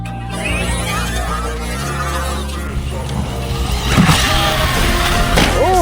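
A Hosim Mojarco M33 1/8 scale 6S RC short course truck drives with a loud, continuous whining electric motor that rises and swells near the end, with voice-like sounds mixed in.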